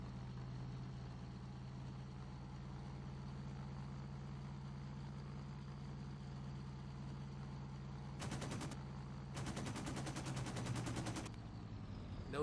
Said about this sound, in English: We got rounds coming our way.